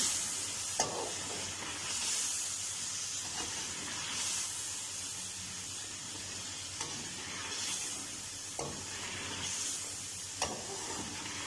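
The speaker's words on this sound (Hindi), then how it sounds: "तो अब हमने ये जो चिकन फ्राई करके रखा था वो डालेंगे" Fried chicken pieces tipped into a sizzling Kashmiri masala gravy and stirred, giving a steady close hiss and crackle with a few sharp spoon clinks against the pot.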